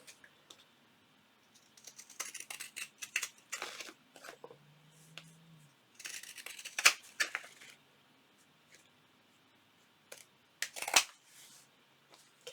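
Scissors trimming fabric for a fabric-covered mini junk journal, heard as scattered bursts of crisp snipping and rustling at close range, with quiet pauses between cuts.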